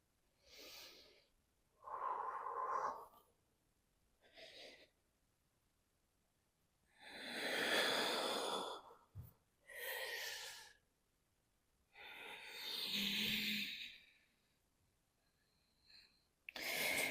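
Slow, deep breathing during a hatha yoga session, with long airy inhales and exhales alternating with quiet pauses, close and fairly soft, with no talking.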